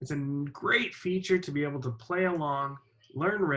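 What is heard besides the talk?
No distinct noise like a dog, phone or traffic.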